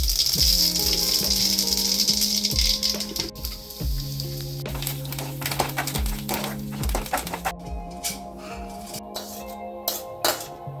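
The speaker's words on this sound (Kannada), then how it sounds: "ಸ್ವಲ್ಪ ಚಟ್ನಿಗೆ ಒಗ್ಗರಣೆ ಮಾಡ್ಕೊತಾ ಇದ್ದೀನಿ" Hot oil crackles and spits as spices and black peppercorns temper for chutney, under a run of low musical tones, with a burst of sharp popping crackles toward the end.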